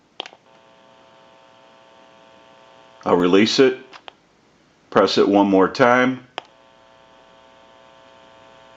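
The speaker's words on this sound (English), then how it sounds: "You may hear a little bit of an electrical hum." A steady electrical hum with a stack of harmonics from a Cincinnati Bell payphone amplifier runs throughout, briefly interrupted while someone speaks twice over it.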